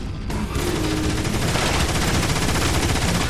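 Optimus Prime's gun fires in Transformers: War for Cybertron, a dense, loud, unbroken burst of rapid shots filling the whole stretch with no voices over it.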